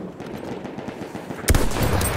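Battlefield 1 gunfire: quiet rapid clatter of distant shots, then a loud close burst of firing that continues to the end.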